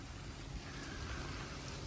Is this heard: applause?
no